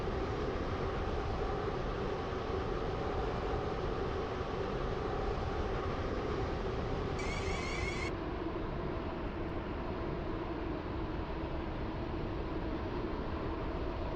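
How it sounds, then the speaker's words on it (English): A Class 720 train running in the Roblox-style game Stepford County Railway, a steady dense broadband rumble with a droning low hum that holds even and continuous throughout, close and constant with no voices. "This train is now approaching Stepford Central."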